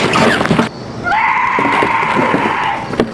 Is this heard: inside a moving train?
no